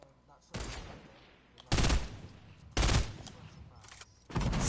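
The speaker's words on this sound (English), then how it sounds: "Someone's shooting at us." Gunfire in a Fortnite match, several loud bursts of shots in quick succession with short gaps between them, close and strong over faint background chatter.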